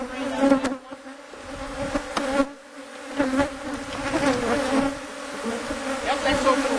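Honey bees hum steadily and close during an open hive inspection, a dense continuous buzz that rises and falls as individual bees pass near, with a few soft knocks from handling the frames.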